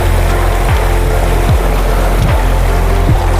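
Sea waves at Porbandar Chowpatty beach roar in a loud, continuous wash close by, with a few soft low thuds as surf breaks, and no voices.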